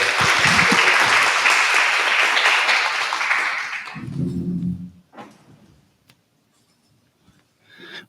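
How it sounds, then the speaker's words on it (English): Audience at a chamber of commerce event giving a speaker a round of applause, loud sustained clapping that tapers off, followed by a brief low voice and scattered faint sounds. "Round of applause for Danielle."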